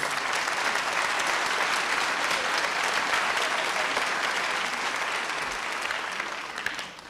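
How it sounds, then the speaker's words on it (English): Sustained, even applause from an audience at a Native heritage dance celebration, honoring the young dancers with a broad wash of many clapping hands that holds steady before easing slightly at the close. "let's give a real big round of applause for their accomplishments"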